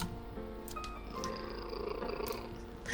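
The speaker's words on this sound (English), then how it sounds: "I love it when you purr so contently." A cat purrs in a video game, a soft continuous low rumble with faint game music tones layered over it, steady throughout with no voices.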